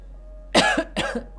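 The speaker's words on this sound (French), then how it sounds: "Ça me fait tousser." Two sharp coughs in quick succession, close and fairly loud, with a short pause between them.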